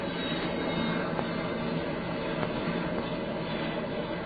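Fighter plane engine, a steady, dense droning roar that holds level throughout with no voices over it, its muffled, band-limited tone suggesting an old radio drama recording.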